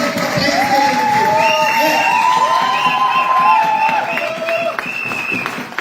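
Audience at an IMC business training event in 2024 erupts in loud, sustained cheering and whooping over steady applause, with high excited voices rising above the crowd throughout.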